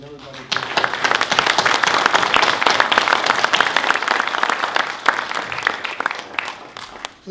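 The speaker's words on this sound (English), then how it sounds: "Just a round of applause for all the recipients and celebrants and everybody" Warm, steady applause from an award ceremony audience honoring recipients, a full burst of many hands clapping that holds for several seconds and then tapers.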